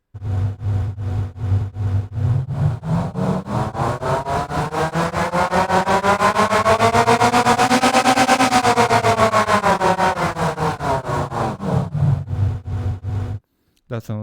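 A buzzy synthesized tone pulsing in rapid tremolo, the pulse rate and brightness swelling toward the middle then easing off, loud and steady, ending abruptly.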